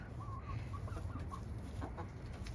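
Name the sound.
chickens clucking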